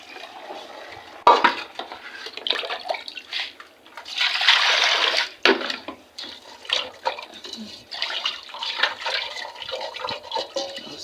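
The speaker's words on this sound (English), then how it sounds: "Now we should turn the rice now." Rice being turned in a pot over an outdoor village cooking fire, giving scraping, stirring and watery sloshing sounds in irregular bursts, close by, with no talk.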